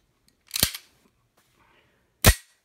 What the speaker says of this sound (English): Grab it and let it slam home.